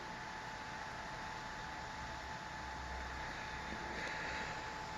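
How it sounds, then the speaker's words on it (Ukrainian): A steady, even whir of a small electronics cooling fan on a 72V-to-230V inverter runs throughout, a constant broadband hiss with a faint hum, no voices. "Все, оберти кулера падають"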